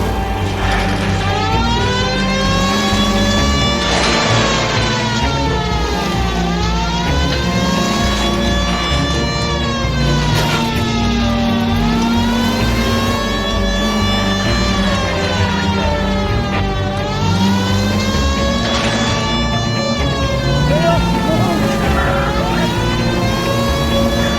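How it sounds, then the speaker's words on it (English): Police car siren in the video game LA Noire, a loud continuous wailing that sweeps up and down in repeated cycles over a steady car engine, close and unbroken. "I feel more comfortable with the siren"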